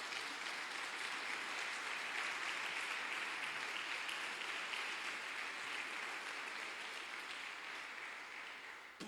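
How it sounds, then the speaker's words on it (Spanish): A church congregation applauds during a devotional service, a continuous, even patter of many hands sustained for several seconds, heard quietly at a distance with no voices over it. "¿Por qué no le damos un aplauso al Señor?"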